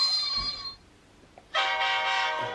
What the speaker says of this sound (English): We've got various sounds on here.